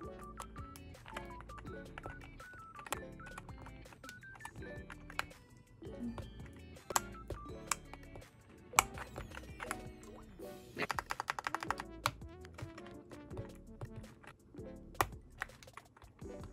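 Someone types on a custom-built Kuromi themed mechanical keyboard. Close, quiet keystrokes clack in irregular bursts, with some quick runs of presses and a few sharper single taps.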